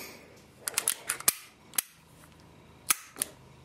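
The trigger of a Walther PPK pistol is pulled with the safety on, giving a series of sharp, close metallic clicks and snaps, several in quick succession and then a few more spaced out, with no talking.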